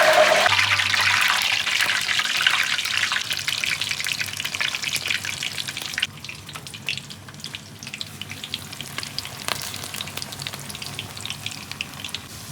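Pakoras fry in hot ghee with a steady, dense sizzle and crackle, loud at first and then settling into a quieter, continuous bubbling hiss with scattered pops.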